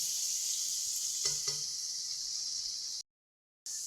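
Eggplant, tomato and green chili frying in a pan give a steady hissing sizzle with a couple of brief stirring knocks, cutting out abruptly near the end before resuming; no talking.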